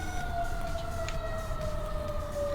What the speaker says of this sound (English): if you are hearing an ambulance, that is right